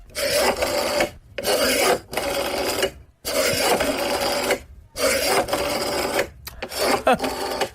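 An old rotary phone dial turns in several bursts of a whirring, ratcheting mechanical sound, each a second or so long, separated by short pauses, close and fairly loud with no voices.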